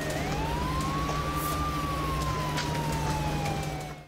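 Ambulance siren wailing through the streets of Kyiv, a single rising and slowly falling tone over steady low traffic rumble, fairly loud and alone without talking.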